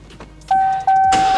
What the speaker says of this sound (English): Car starts right up, right?